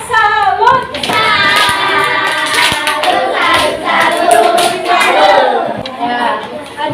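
Classroom of students performing a rhythmic group clapping routine, loud close-up hand claps mixed with shouted chanting voices, energetic and overlapping for several seconds.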